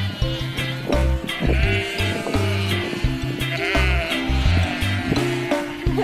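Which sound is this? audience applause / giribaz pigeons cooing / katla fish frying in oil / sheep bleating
sheep bleating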